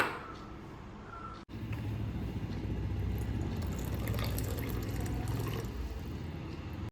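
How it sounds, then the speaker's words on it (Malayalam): Water pouring steadily into a bowl to soak sago, a continuous splashing fill after a brief pause, close and moderately loud. "അപ്പോൾ ഇത് പെട്ടെന്ന് കുതിരാൻ വേണ്ടിയിട്ട് നമ്മൾ വെള്ളം ഒഴിച്ച് വെക്കുകയാണ്"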